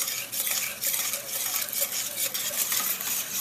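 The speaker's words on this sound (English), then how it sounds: "Let me go ahead and mix this all up." A spoon mixes a thin Carolina-style pepper pork shoulder BBQ sauce with a tablespoon of salt, making quick, close scraping and clinking strokes against the bowl in a steady, busy rhythm with no voices.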